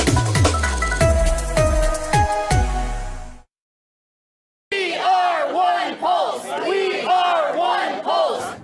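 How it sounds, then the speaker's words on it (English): Dozens of protesters outside a church shout and chant in a loud, dense crowd, with rhythmic chanted voices after a brief gap of silence. "Dozens of protesters shout and sing as parishioners with Bibles in hand try to make their way through the crowd"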